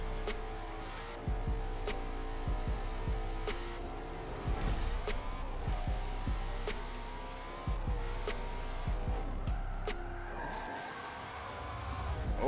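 A Shelby GT350R races in Forza Motorsport 7, its engine rising and falling through gear changes with occasional tire squeals, steady and moderately loud throughout.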